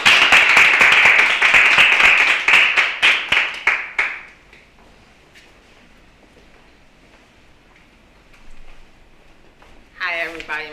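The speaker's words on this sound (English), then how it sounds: "please give a round of applause" Loud audience applause from a crowd at a youth leadership program session, dense clapping that tapers off after a few seconds, followed by a quiet stretch before a voice starts speaking.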